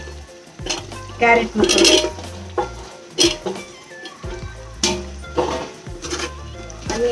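A spoon stirs frying chopped vegetables, carrots, onions and beans, in a pan for egg biryani, with loud repeated scraping and clanking over a gentle sizzle while someone speaks briefly.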